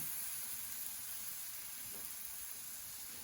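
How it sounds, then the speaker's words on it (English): Buttermilk hitting a hot pan gives a steady, even sizzle with a fine hiss, close and constant throughout, with no voices. "we're going to add our buttermilk also, and add it to the pan"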